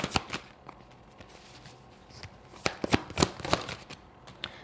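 A deck of cards is shuffled close up, with repeated quick riffling snaps and soft flicks in short bursts, fairly quiet, with no talking.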